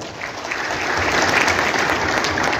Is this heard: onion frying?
no